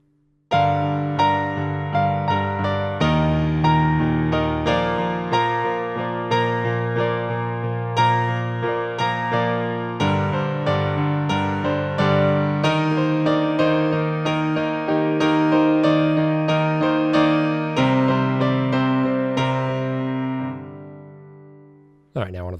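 Piano plays the right-hand part of a song from the acoustic version at a slow tempo over left-hand chords, steady ringing notes and chords, close and alone without voices, fading out at the end.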